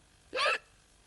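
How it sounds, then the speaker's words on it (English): One short, quiet hiccup, close by, in otherwise near silence. "All he ever does is hiccup all day long."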